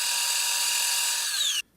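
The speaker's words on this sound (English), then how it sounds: "we'll go ahead and drill this, center drill it" A power drill whines steadily as it center-drills a washer, its pitch sliding down near the end before it stops abruptly, with a short silence after.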